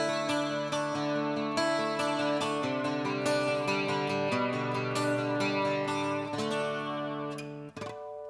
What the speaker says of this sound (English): So next up is the chorus effect built into the Hyvibe, and it sounds like this.